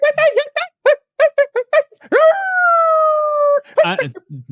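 A person imitates coyotes, first with a run of short yipping chitters, then a long rising howl held for over a second, followed by more yips.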